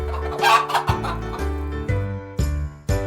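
A hen gives a few short clucks near the start, close and clear. A bouncy looping children's tune carries on underneath and continues after the clucking stops.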